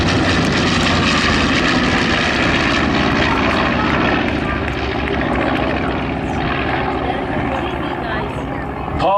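Propeller airplane performing aerobatics at a World War 2 weekend airshow, an 800-pound plane whose engine drones loud and steady throughout, with crowd noise and voices underneath.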